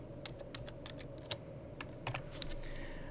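Quick bursts of keystrokes on a computer keyboard as search criteria are entered for a Microsoft Access query, close and fairly quiet, with irregular clusters of clicks and short pauses.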